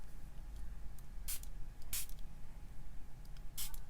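A handheld spray bottle of water mists a wet floral painting in three short, sharp hissing spritzes, close and distinct over a faint low background hum.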